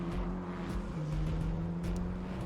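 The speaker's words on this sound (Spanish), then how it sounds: "esto que van a enseñar ahora creo que es de dónde han sacado los sonidos para ponérselos a los coches" A steady engine drone with a sustained low hum and faint whirring, like a car motor idling or cruising, continuous and fairly loud with no talking; car sound recording for the video game Cyberpunk 2077.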